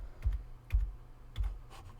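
Three separate keyboard key presses, the F7 key tapped in computer drafting software to switch a grid on and off, each a soft, close click roughly half a second apart with light background hiss.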